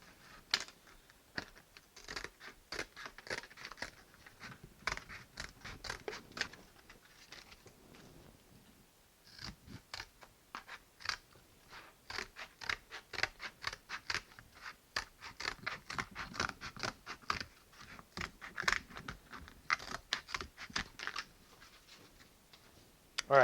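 Scissors snip and trim sturgeon skin to width for backing a bow limb, giving a long run of close, crisp clicking cuts in rapid irregular bursts with a short pause partway through.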